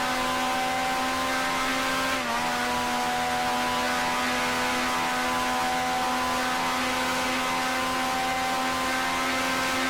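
Vintage 1965 Formula One engine drone in Grand Prix Legends, a steady close tonal roar with a second car running just behind, constant and unbroken for the whole stretch.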